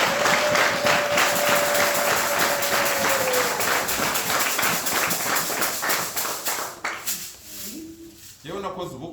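A church congregation applauding, sustained loud rhythmic clapping with voices mixed in, tapering and thinning toward the end as a few voices remain.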